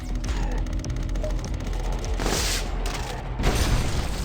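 Rapid volleys of micro missiles fired from a hand cannon in the shooter Turbo Overkill, a quick rattling string of launches followed by heavier booming blasts, loud and close.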